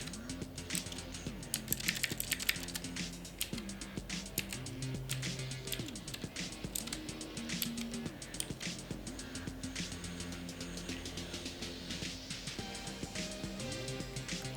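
Keys clack on an Aula F2066 mechanical keyboard in a fast, steady stream of crisp clicks, close up and continuous throughout, with some faint tonal background under the typing.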